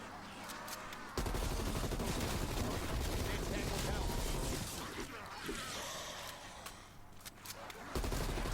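An M4 rifle firing in a Call of Duty Black Ops Cold War Zombies match, rapid bursts of gunfire with busy game effects around them, fairly loud and dense, briefly thinning and then resuming.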